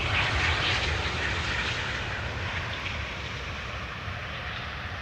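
Airliner landing at Schiphol on idle reverse thrust, a broad steady jet roar that starts fairly strong and slowly fades, heard from a distance with no voices.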